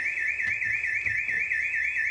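A house alarm sounds after a burglary, its electronic siren warbling continuously and loudly on a steady rising-and-falling pattern throughout, with faint low thumps beneath.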